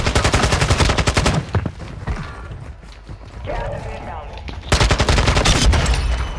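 Rapid bursts of automatic gunfire in Call of Duty: Modern Warfare II, two loud clusters of fast rattling shots separated by a quieter gap with mechanical clatter and background game noise.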